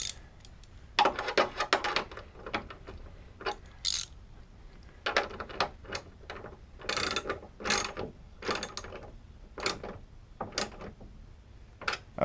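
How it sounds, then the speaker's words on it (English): Quick bursts of ratchet clicking as a 10mm socket tightens the hood strut bolts on a 1995 Golf MK3, with short pauses between the bursts and no talking. "we'll use the socket here, 10mm socket, to tighten it down so it's nice and snug"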